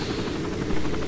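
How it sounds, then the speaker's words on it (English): A hostile helicopter in the video game Modern Warfare 3 Spec Ops mission Hostage Taker thrums steadily with rapid, pulsing rotor beats, fairly close and continuous, with no voices. "How do we disable the hostile chopper?"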